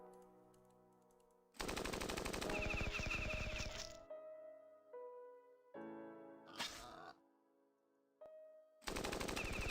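A tank attack in the war strategy game Battle Nations: loud bursts of rapid mechanical firing come in several blocks separated by quiet stretches and brief musical game tones, with no talking.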